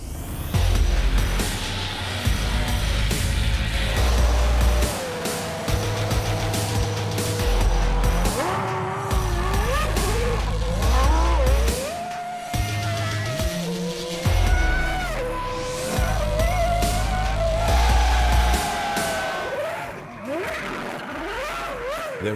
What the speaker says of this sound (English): There is nothing quite like the awesome power and sound of an F1 car.